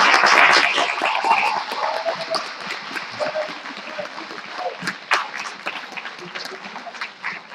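An audience at a Toastmasters district table topics competition claps loudly at first, then the applause thins into scattered, fading claps while a voice speaks over it.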